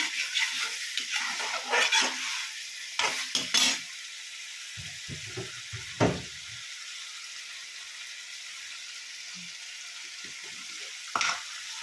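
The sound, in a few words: bitter gourd frying in oil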